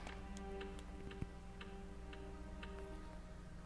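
A grandfather clock ticks steadily in the Resident Evil: Director's Cut game on PS1, faint, regular ticks over a quiet low ambient hum.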